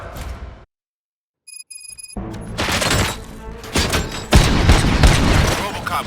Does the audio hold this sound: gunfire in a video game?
yes